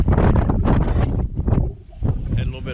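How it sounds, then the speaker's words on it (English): Strong wind gusts buffet the microphone beside a canal on a rainy fishing day, a loud, rough roar that rises and falls throughout. "very windy"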